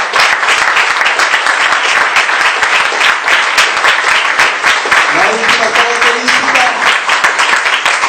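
A church congregation applauds the Lord with dense, continuous clapping that stays loud throughout, and a preacher's voice speaks over it partway through.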